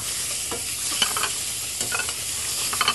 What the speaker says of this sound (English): So actually now we're going to add the shrimp now.